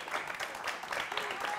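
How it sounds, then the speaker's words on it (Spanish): Studio audience applause on a late-night television show, a soft, steady patter of many hands clapping at a fairly low level, with faint voices mixed in near the end. "Un aplauso, por favor,"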